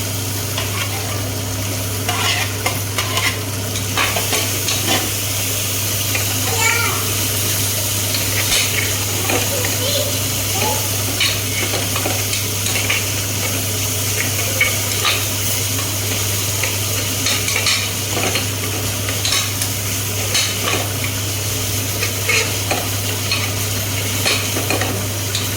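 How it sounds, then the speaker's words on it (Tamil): Ginger garlic paste and green chilies sauté in a pan for tomato rice, a continuous close sizzle with frequent scraping stir strokes and utensil clinks against a steady low hum. "இஞ்சி பூண்டு எந்த அளவுக்கு வதங்கிட்டு பார்க்கலாம்."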